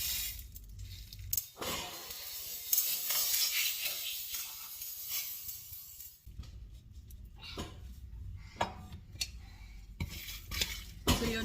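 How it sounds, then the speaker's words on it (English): Whole spices dry roasting in a pan for chicken xacuti, with a utensil scraping and clinking against the metal in irregular bursts and short quiet pauses, close and moderately loud. "let's go ahead and start dry roasting our spices"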